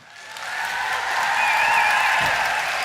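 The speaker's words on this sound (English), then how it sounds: "a warm round of applause as you welcome to the stage" Steady applause from a conference audience welcoming Dr. Ken Berry to the stage in Austin, swelling within the first half second and holding loud and even as a dense, continuous wash of clapping.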